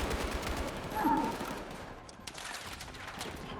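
Battlefield 6 gunfire crackles in a dense volley at first, then fades into scattered shots, with game noise and faint voices underneath.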